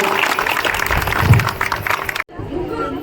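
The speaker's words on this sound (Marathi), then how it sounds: "सगळ्यांच्या जोरदार टाळ्या वाजवा वहिनीसाठी एकदा" A crowd at a village festival's Paithani game claps for a woman: dense, close applause mixed with voices and chatter, ending abruptly.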